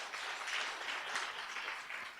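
An audience at a university project launch claps steadily in a soft, even patter for about two seconds, heard at a distance without any talking.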